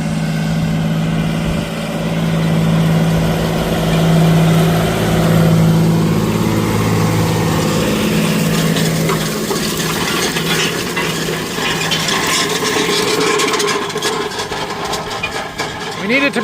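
A tractor engine drones steadily just outside the cab in a field, a loud continuous rumble with a low hum that holds for the whole stretch while someone talks over it.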